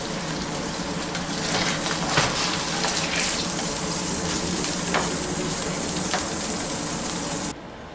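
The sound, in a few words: meat searing in a pan for crock pot stew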